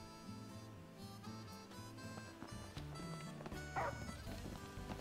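Umbra, a dog in Final Fantasy XV, barks amid a busy layer of game music and effects, the short yips sitting under melodic tones that run steadily throughout.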